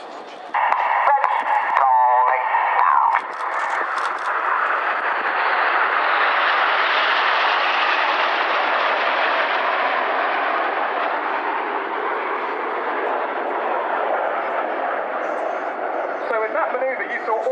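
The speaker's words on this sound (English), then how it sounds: "we'll have a listen to the radio as you watch the pilots widen in Diamond to fly the Whirlwind" Red Arrows jets flying the Whirlwind manoeuvre at a Waddington airshow, a loud sustained jet roar with rising and falling intensity, with crackly radio voices heard over it near the start and end.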